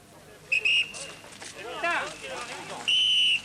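Shrill whistle blasts ring out at the start of a cycling race, a short double blow and then a longer one, over the murmur of a crowd and background voices.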